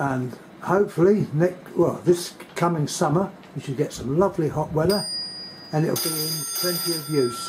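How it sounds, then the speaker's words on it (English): A mobile phone rings with a bright electronic ringtone that starts partway through and keeps going under someone talking, louder and layered toward the end. "And that's my phone ringing"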